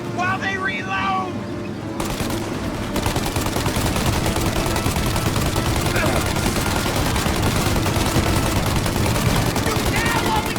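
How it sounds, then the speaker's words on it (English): A shootout in a Mafia video game, with loud, dense automatic gunfire crackling almost without pause after a short opening, close and relentless, while someone shouts briefly over it at the start. "Shoot out their gun when there's a break in the fire!"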